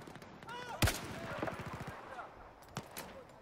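Enemy gunfire in a Battlefield 4 campaign firefight: one sharp, close shot, then a quick automatic burst of rapid pops, followed by a couple more isolated shots, all fairly quiet, with a voice talking alongside.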